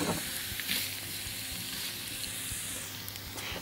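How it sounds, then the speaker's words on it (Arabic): Meat for a tagine sautéing in a pan, giving a steady, close, hissing sizzle that holds evenly throughout with a few faint pops and stirring knocks. "باخد الحاجات دي ببتدي نشحرها او نتبلها نشوحها"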